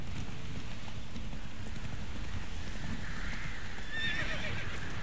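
Roach, a horse in The Witcher 3, gallops under steady wind and loose, rumbling hoofbeats, then gives a clear rising neigh near the end.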